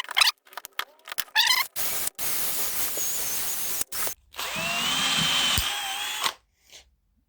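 A power drill bores a line of holes into wood for a spiral Christmas tree, with short whirring bursts and pauses, then a longer sustained grinding run before stopping.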